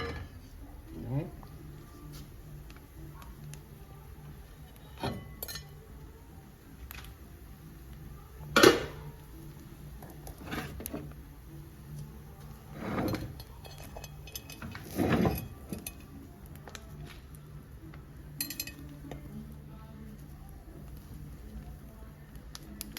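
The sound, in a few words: utensils clinking while serving rice and cow liver onto plates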